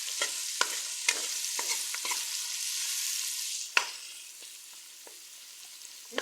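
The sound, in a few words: sautéing vegetables in oil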